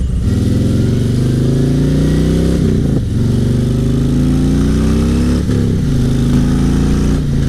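A 2018 Road Glide Ultra motorcycle with aftermarket pipes and no tune being ridden: a loud, steady, deep engine and exhaust rumble that climbs through the revs and briefly dips at two gear changes.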